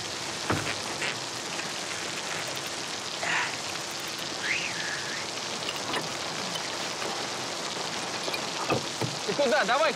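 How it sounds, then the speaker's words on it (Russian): Heavy rain pours down steadily over an outdoor roadside scene during a stop to change a wheel, a dense continuous hiss with occasional louder splashes, while a few people talk faintly beneath it. "Смотри, какой дождина поливает"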